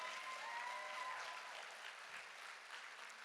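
Audience applauding at a Chicago film screening, steady clapping from a fairly distant crowd sustained for a few seconds with no voices over it.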